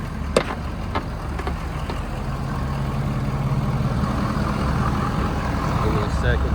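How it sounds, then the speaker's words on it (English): A 2014 Ford F-250 pickup's 6.7 Power Stroke diesel engine idles with a steady low rumble. A few clicks and knocks come early on, and nobody speaks. "This truck sounds beautiful."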